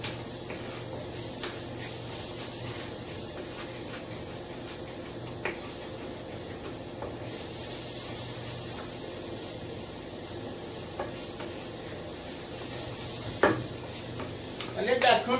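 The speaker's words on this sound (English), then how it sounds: "Add my onion. Now I'm sauteing it" Onion sautéing in a pan sizzles steadily while a utensil stirs and scrapes the browned bits from the bottom, with occasional sharper scraping clicks and a busier clatter of stirring near the end.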